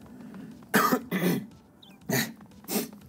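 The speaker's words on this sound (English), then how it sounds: "I had a coughing fit there" A coughing fit of four harsh, close coughs in uneven bursts, with short pauses between them and no talking.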